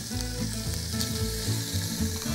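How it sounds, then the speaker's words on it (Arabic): Meat frying in olive oil in a pot for harira soup, a close, continuous hissing sizzle with stirring, no talk. "بصوا هنزل باللحمة، دايما وانتوا بتحطوا زيت الزيتون"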